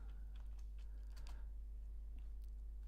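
Computer keyboard typing, scattered keystrokes heard faintly over a steady low hum, with no talking.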